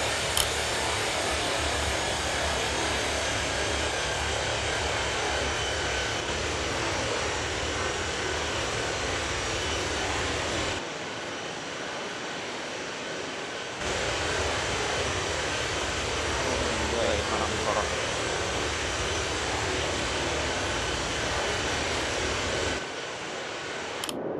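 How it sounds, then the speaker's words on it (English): A steady, loud roar of an airliner's engines climbing out after takeoff from Sydney bound for Melbourne in a flight simulator, broadband and continuous, with a brief quieter dip partway through. "I think the takeoff is basically complete"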